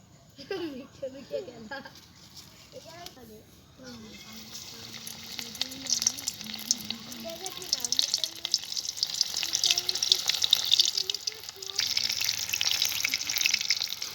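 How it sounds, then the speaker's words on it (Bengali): Batter-coated fish pieces fry in hot oil with a loud, continuous sizzle that swells and stays dense. A person talks over the quieter opening seconds. "বন্ধুরা এগুলোকে ভেজে নিচ্ছি"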